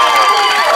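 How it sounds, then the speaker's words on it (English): Studio audience cheering and applauding loudly for a special guest, a dense wash of crowd noise with shouts and clapping blended together, close and sustained throughout. "please give a huge round of applause for our special guest, Mac, everyone."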